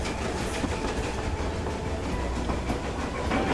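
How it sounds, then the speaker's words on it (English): A train runs along the line through a tunnel, a dense steady roar with faint clickety-clack from the wheels and rails, loud and unbroken throughout. "You really do love the train"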